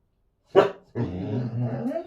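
A single sharp dog bark rings out close by, followed by continuous conversation between people in the room.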